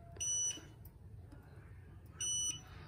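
A Xiaomi baseboard heater gives two short, high electronic beeps about two seconds apart as it powers on, over a low steady room hum.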